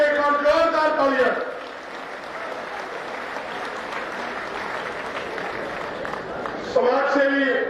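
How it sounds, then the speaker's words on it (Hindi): Loud crowd applause at a farmers' rally in Kharkhoda, steady broadband clapping filling most of the stretch, with someone speaking over a PA at the start and end. "उनके लिए एक बार जोरदार तालियां।"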